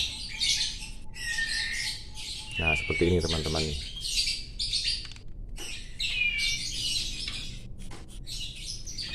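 Bright, high chirps and squawky calls from a white-rumped shama chick repeat throughout, with someone speaking briefly partway through.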